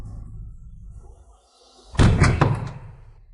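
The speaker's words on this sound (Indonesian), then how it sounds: "Tengah malam mengetuk-ngetuk apa?" At midnight a door is struck with a sudden loud thud and a few rattling knocks right after it, close by, following a quiet stretch with faint speech.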